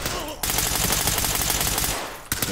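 Rapid automatic gunfire from the tactical shooter game Ready or Not comes as a sustained loud burst of closely spaced shots, then a pause and a couple of final cracks, close and harsh, with no talk.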